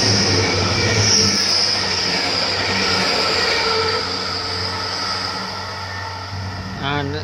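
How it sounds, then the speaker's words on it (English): Hull Trains passenger service bound for London King's Cross passing close by on the line at Ferriby, a loud continuous rumble with a high wheel squeal running throughout, ending in a brief horn-like tonal sweep. "Here comes the first Hull train service to London King's Cross"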